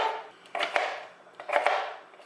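Purple sweet potatoes are chopped with a knife beside a kitchen sink, giving a few crisp blade strikes against the board in two short bursts, fairly close and with no talking.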